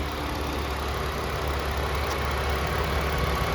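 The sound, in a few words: 2011 Ford Fusion 3-liter V6 engine running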